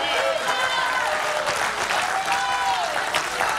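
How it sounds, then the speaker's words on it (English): A church congregation claps and shouts in sustained applause, loud and close, with voices calling out over the clapping. "Give him a big shout and a hand clap, brother"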